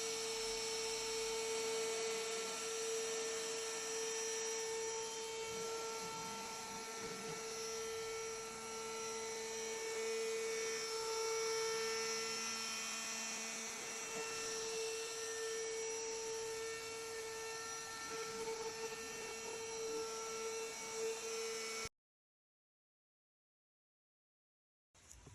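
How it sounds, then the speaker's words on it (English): CNC router cutting wooden screws: a continuous high-pitched whine with steady tonal hum and faint grinding texture, lasting about twenty seconds before abruptly cutting to silence. "I'm using my CNC router to cut the two screws."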